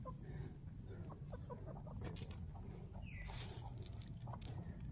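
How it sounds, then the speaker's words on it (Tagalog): A chicken in a farmyard gives a few soft clucks at moderate distance, rising over steady low background rumble and rustle, with no one speaking. "Itong isang manok na to,"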